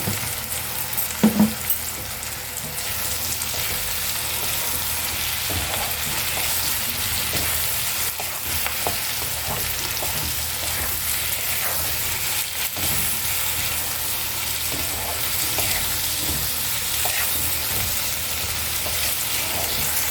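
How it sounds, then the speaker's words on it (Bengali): Hyacinth beans and small shrimp sizzle steadily in a hot pan, with the scrape and clink of stirring throughout, close and continuous with no talk. "এবার আমি এর মধ্যে ছোটো ছোটো চিংড়ি মাছ দিয়ে দিচ্ছি, এর সঙ্গে ভাজতে থাকবো।"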